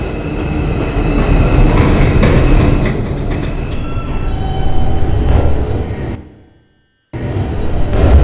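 A 2 subway train rumbles into Winthrop Street station in Brooklyn with loud, sustained clatter and wheel noise. The sound drops out briefly near the end, then the heavy roar returns.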